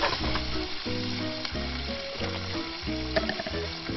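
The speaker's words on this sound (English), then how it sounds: "Let that simmer away." Tomato sauce with garlic and basil simmering and sizzling steadily in a pan, a continuous close bubbling hiss with soft clinks, while music with a repeating rhythmic pattern plays underneath.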